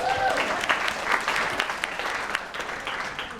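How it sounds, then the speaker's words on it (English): An audience applauds steadily, a dense wash of clapping hands that stays strong throughout. "Give Sarah a big round of applause."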